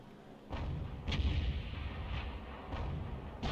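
Artillery in a tank battle game booms repeatedly, four or five heavy blasts spaced about a second apart over a steady rumbling engine bed, fairly loud and with no talk.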